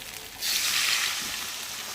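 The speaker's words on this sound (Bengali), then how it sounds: "আমি এখন এবার জল দিয়ে দেবো" Water poured into a pan of frying egg curry sets off a sudden hissing burst that holds steady and loud for over a second after a brief quiet start.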